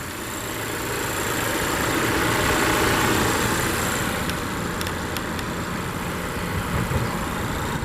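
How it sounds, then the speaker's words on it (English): A 2020 Volvo XC90 T6's 2-liter turbocharged and supercharged four-cylinder idles steadily, a smooth close hum with a faint high whine and a few light clicks near the end. "it is equipped with Volvo's 2-liter turbo and supercharged 4-cylinder"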